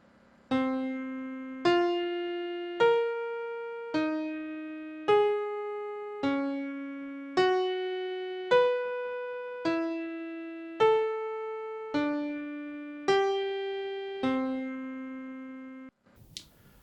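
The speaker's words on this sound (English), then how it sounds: "that MIDI piano going through a circle of fourths" A MIDI piano steps through chord changes around the circle of fourths, about fourteen evenly spaced struck chords that each decay before the next, with a brief click at the end.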